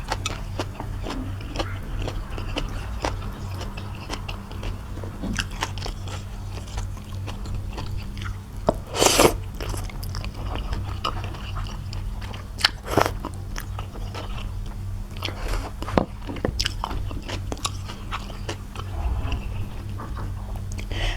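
Crunchy Chinese bitter melon eaten with rich Thai boat noodles, steady close-up biting and chewing with crisp crunches and occasional sharper bites.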